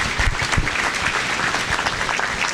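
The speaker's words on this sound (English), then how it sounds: "let's give these kids a round of applause" A crowd at a Wisconsin State Fair crossbred steer show applauds the young exhibitors, dense continuous clapping lasting a couple of seconds.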